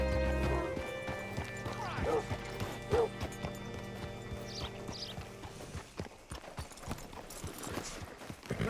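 Clip-clopping horse hooves with a brief whinny in the video game Red Dead Redemption 2, set against game music and ambient sound, with a voice speaking partway through.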